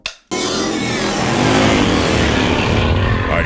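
Custom motorcycles start up and rev hard, a loud sustained engine roar that holds steady at close range after a brief sharp opening burst, with no talking.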